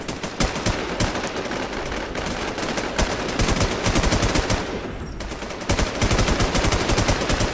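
Rapid automatic gunfire rattles in the online shooter WarZ, with dense, loud bursts of shots running almost continuously and a brief pause midway before the firing resumes.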